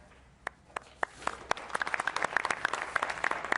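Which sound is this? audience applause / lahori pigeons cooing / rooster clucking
audience applause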